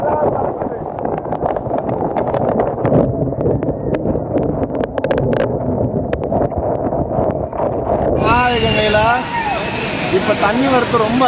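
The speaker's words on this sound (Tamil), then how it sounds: "இப்போ வாட்டர் ஃப்ளோ இன்னும் அதிகமாக இருக்குது" Aagaya Gangai waterfall in the Kolli Hills, running in heavy flow, with a constant roaring rush under gusts of wind and people talking nearby.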